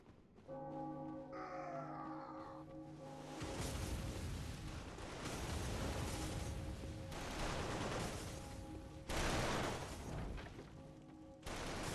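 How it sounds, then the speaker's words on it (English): Cannons fire in the Bloodborne video game: a few heavy, booming blasts land at intervals over a dense, continuous rumble of game sound, with no voices. "Potentially scary segment here with the cannons"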